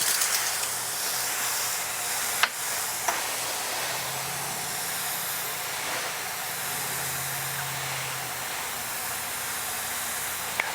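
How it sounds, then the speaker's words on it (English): A spray bottle mists water lightly onto germinating mix in a seed plug tray in a greenhouse, giving a steady airy hiss with a couple of faint clicks and no talk. "we're just going to mist it really lightly and get that germinating mix wet"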